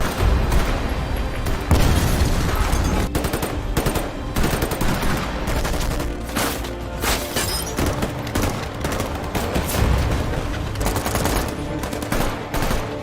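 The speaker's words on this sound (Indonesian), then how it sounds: "terjadilah baku tembak yang sangat seru" Dense gunfire in a film shootout between SWAT officers and robbers, rapid automatic bursts and booming shots packed tightly together, loud and continuous with no pauses.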